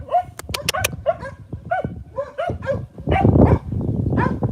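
Several dogs bark in short, sharp bursts with yips and whimpers mixed in, close by and uneven in rhythm, building into a denser flurry of barking near the end.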